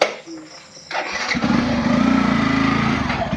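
A motorcycle engine starts with a short cough, then settles into a loud, steady idle that runs on close by.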